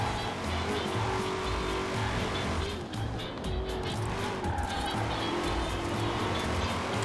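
A Shelby Mustang GT500 on all-wheel drive races laps in Forza Horizon 4, its engine roaring loud and continuous with tire squeal and skidding through corners.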